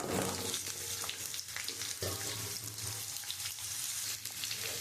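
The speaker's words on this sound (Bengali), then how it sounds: "আমি এবারে সবজিটা একটুখানি আমি ভেজে নেব।" Cut papaya and potato pieces fry in a pan with green chillies and ginger, giving a continuous soft sizzle with occasional light stirring, fairly quiet and close.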